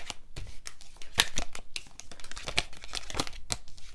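Tarot cards are shuffled and pushed back into a deck, giving quiet, close crinkling and papery snaps in irregular bursts with a few sharper taps, and no voices.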